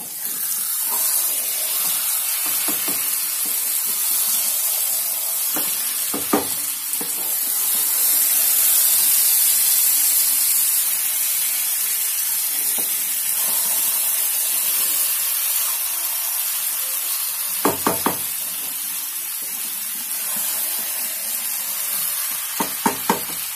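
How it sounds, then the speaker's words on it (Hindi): Chicken frying in a pan for a dhaba-style curry, a steady hiss and sizzle with a few sharp clinks of a spoon stirring against the pan, close and continuous. "चिकन इसमें डाल के हम 10 मिनट 15 मिनट तक इसे भूनेंगे"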